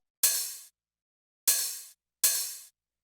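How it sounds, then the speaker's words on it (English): Three isolated open hi-hat hits from a piano house drum sample, each a bright, airy metallic hiss lasting about half a second, spaced unevenly with silence between. "Here's the hi-hat."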